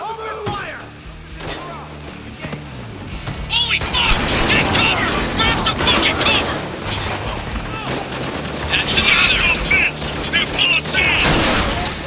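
Sustained bursts of gunfire in the video game Spec Ops: The Line, dense, loud and continuous, with shouted voices over the firefight.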